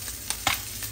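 Fish frying in a pan until golden, a steady close sizzle with a few brief stirring or scraping bursts over one second.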